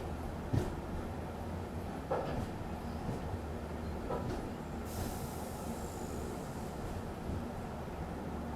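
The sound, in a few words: passing train crossing quickly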